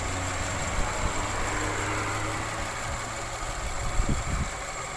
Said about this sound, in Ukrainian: Мотор працює взагалі ідеально